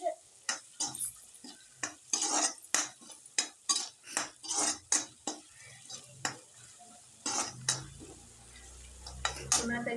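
Bitter gourd and coconut being sautéed in a pan: a quick run of rhythmic scraping and tapping strokes from a utensil over a low sizzle, close and fairly loud.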